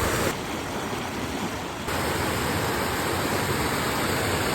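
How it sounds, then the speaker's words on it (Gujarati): A swollen village river in full flow, a dense, steady rushing roar, loud and close, with no voices. "ખાલી પાણીનો અવાજ તો તમે સાંભળો"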